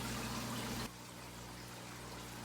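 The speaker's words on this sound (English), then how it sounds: "So I have the cup in with the hose and it's running" Hose running water into an aquarium tank, a dense rushing pour that abruptly drops to a quieter steady trickle and hum partway through.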